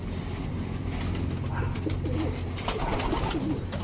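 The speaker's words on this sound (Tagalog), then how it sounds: "may ibon tayo dito mga kamote oh. Mga pang racing to mga ibon natin ngayon." Grizzle racing pigeons coo in a loft, soft rolling throaty calls repeating close by over a steady low background hum.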